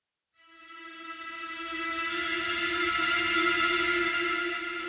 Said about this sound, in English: you have the high string tremolos coming in,